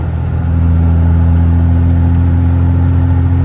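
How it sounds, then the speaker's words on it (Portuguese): A Ford F250 with a 5-inch exhaust tip labors uphill in fifth gear under heavy throttle, heard from inside the cabin as a loud, steady low engine drone that swells slightly and then holds constant. "eu vou fazer ela de quinta e pisar para o motor se esforçar mais"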